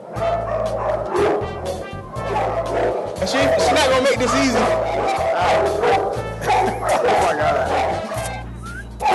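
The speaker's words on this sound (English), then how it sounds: "until he tries to put the dog back in the cage" A dog barks, yips and whimpers repeatedly while being put back into its cage aboard a boat in dry dock, the sharp close barks coming in bursts under excited talk from people nearby.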